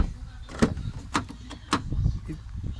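The door of a Fiat Bravo 2 with a dead battery is shut and locked by hand, giving a series of sharp clicks and solid thumps spaced about half a second apart, close by.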